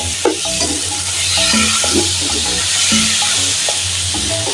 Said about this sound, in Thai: อันนี้จะใส่หอมผัดลงไปด้วยค่ะ